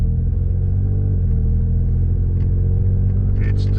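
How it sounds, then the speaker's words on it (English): A truck rolls over a couple of speed humps on a street in D.C., with a steady, loud low engine and road rumble throughout and faint thumps and rattles near the end. "we're going to go over a couple speed humps here, see how the camera handles that"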